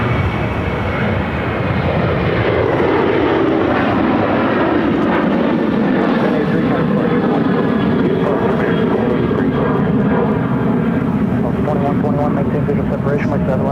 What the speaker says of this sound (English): It's American Airlines 1083 to Austin, 737-800.